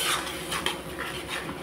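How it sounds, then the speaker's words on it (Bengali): A paste masala of ground peanuts, nuts and raisins with salt and turmeric being stirred and fried in a pan, a brief burst of close scraping and soft sizzle with a couple of utensil knocks. "মশলাটাকে ভালোভাবে কষিয়ে নেব।"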